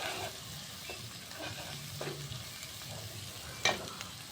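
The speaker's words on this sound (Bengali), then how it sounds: "এরপর মশলাগুলো ভালোভাবে কষিয়ে নেব" Spices with turmeric and chili powder fry in a pan for Bengali whole fish bhuna, giving a soft, low sizzle with occasional light stirring scrapes and one sharp clink near the end.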